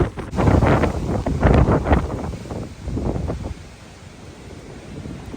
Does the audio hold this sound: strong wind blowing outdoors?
yes